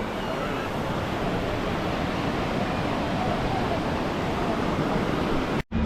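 Surf washing onto the beach at Perranporth on a calm day with small waves, a steady broadband wash with wind noise on the microphone, unbroken until a brief dropout at the very end.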